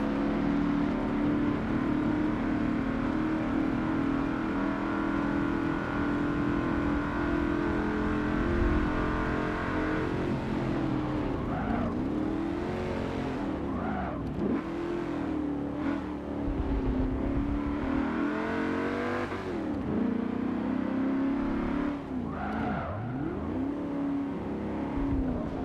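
A Trans Am race car engine in the Forza Motorsport 7 racing game drones steadily, then rises and falls through repeated gear shifts and revs, with a continuous loud tone under no speech.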